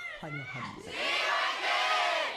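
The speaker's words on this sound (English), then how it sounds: "Crowd's going nuts." Arena crowd at a 2015 LCK Spring League of Legends match between SK Telecom T1 and GE Tigers, breaking from scattered shouts into a loud, continuous cheering roar that holds steady to the end.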